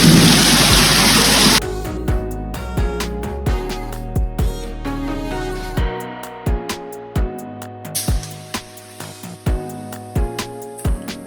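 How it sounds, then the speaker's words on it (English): Heavy rain pours steadily, with repeated sharp thunder cracks and rumbles punctuating it throughout a storm likened to a typhoon in Portugal; the rain roar is loudest at the start and the thunderclaps come close and strong. "Jeez, is that thunder? It is thunder."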